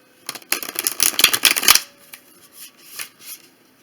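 A deck of Bruegel tarot cards is riffle shuffled up close, giving a dense, fluttering burst of card snaps for about a second and a half, followed by softer scattered card taps and handling noises.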